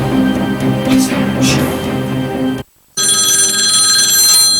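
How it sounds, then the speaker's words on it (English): A hotel front desk telephone rings in repeated bursts, loud and close, then breaks off into a brief silence before more sound resumes. "the men were alarmed by the sound of the front desk phone"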